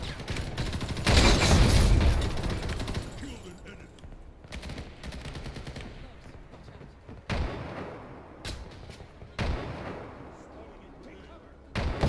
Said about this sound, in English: The enemy is using an arm launcher.